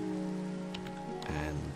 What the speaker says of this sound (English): We don't know because it's raining.